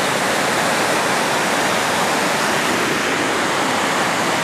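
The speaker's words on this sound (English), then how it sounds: "waterfall. There is quite a bit of water in it." A waterfall carrying plenty of water on a hike, a dense, steady, loud roar of falling water with no breaks, close by.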